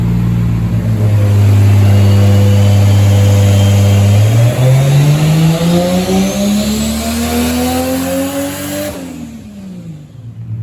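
A turbocharged non-VVTi Toyota 2JZ-GE engine in a right-hand-drive Mk4 Supra revs hard on a dyno pull, a loud steady drone climbing smoothly in pitch for several seconds, then cutting off abruptly as the throttle closes.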